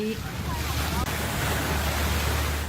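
Sea wind and waves during a sailboat race in about 12-knot winds, a loud steady rushing roar of gusts and surf buffeting close by.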